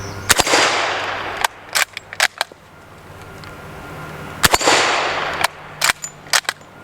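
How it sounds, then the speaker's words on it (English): An old British Enfield battle rifle chambered in .45 ACP fires at a steel plate rack outdoors, with about a dozen sharp shots in two uneven bursts separated by a quiet pause, some shots closely paired. "there's like no recoil on this thing, because it's actually a fair amount of heft on these old battle rifles"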